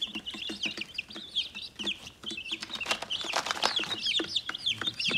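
A chorus of high, rapid cheeping from many baby chicks close by, continuous and busy with overlapping peeps.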